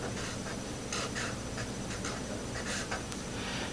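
Pen or marker strokes scratch on a writing surface while an argon core is written into an orbital diagram, with short, faint bursts of writing in a quiet room and no talking.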